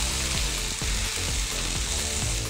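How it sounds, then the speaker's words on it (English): Barbecue pork fried rice with broccolini and cooked white rice stir-fries in a hot pan, a dense, steady sizzle broken by soft scrapes as it is tossed, close and alone. "Stir fry"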